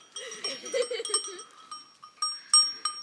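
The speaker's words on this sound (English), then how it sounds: "The goats are all coming out wondering, what's this?" Several goats bleat near a newly built horse barn. Their calls are loud and wavering, the first long and drawn out, the later ones in short bursts, mixed with brief clanks.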